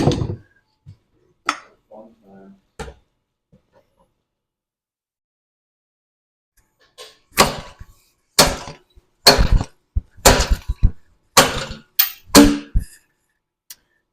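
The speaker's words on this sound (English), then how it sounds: "It's like a slide hammer." Slide hammer pulling a fork seal from a Honda CR250R motorcycle fork, a series of sharp metallic knocks, sparse at first and then a rapid run of hard impacts after a quiet gap.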